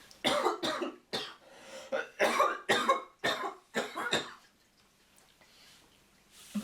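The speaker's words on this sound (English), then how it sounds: "apologies, I had another coughing fit." A close, harsh coughing fit: about ten rapid, forceful coughs in a row, then a few quieter breaths and faint noises.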